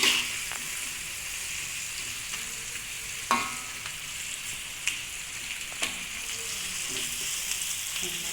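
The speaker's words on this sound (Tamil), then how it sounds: "வெங்காயத்தை வதக்கி நல்லா வதங்கிட்டேங்க." Onions sautéing in a pan hiss in a steady, moderate sizzle, interrupted by a few sharp clinks and scrapes from stirring, heard alone and close.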